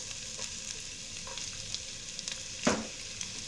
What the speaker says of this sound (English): Just give a quick saute to it.